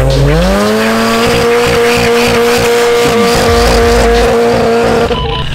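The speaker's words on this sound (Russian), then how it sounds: "На самом деле мне очень нравится звук у этой машины." Mini John Cooper Works GP on semi-slick tyres in winter, loud engine revving high and steady through a burnout with squealing, skidding tyres, close and continuous before cutting off at the end.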